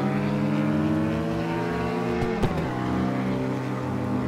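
Car engine in the CarX Street mobile racing game, a steady loud drone with shifting harmonic pitch and a brief sharp gear-change blip midway, no talk.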